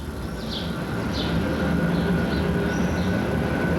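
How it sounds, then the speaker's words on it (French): Lyon rack railway metro climbing the Croix-Rousse hill, a steady rolling rumble with a high whine and brief squeals from the wheels, continuous and moderately loud. "c'est un véritable métro, manifestement hermétique à tout folklore, qui escalade la colline"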